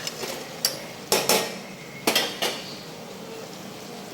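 Boiled potatoes are stirred into a cooked garlic chutney masala in a metal pan, with a handful of sharp, spaced spoon-on-pan clanks and scrapes over a quiet background.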